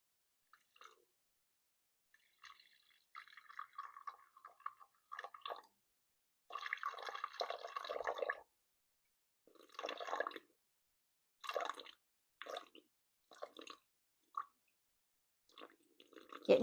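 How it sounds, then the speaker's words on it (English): Water is poured in short, quiet bursts into sourdough bread dough on a kitchen scale, making soft trickling and splashing dribbles separated by silent pauses. "So I will tare that and then add my water."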